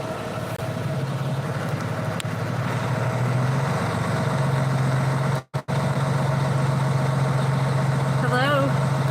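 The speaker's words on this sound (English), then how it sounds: "it might get a little loud because the truck's getting ready to start." A large truck engine idles with a steady low rumble throughout, dropping out for a moment before resuming, with a faint voice near the end.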